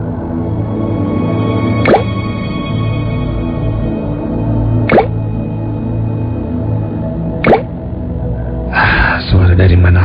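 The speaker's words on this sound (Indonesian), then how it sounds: "suara tetesan air" Single water drops plop at slow, irregular intervals, about three spaced a few seconds apart over a steady low hum in a quiet indoor room, followed by a brief louder rustle near the end.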